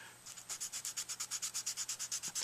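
A Mojo Vortex 2 tenor saxophone mouthpiece being sanded by hand with 320 grit sandpaper: steady, evenly paced back-and-forth rasping strokes, close and fairly soft, with no voices.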